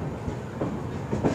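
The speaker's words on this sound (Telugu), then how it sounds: "అరకుల రైల్వే స్టేషన్ నుంచి ఇప్పుడే స్టార్ట్ అయింది" A train pulls away from Araku railway station on the line toward Vizag: a close, steady rumble of rolling carriages with a couple of soft rhythmic clacks from the wheels, heard briefly with no voices.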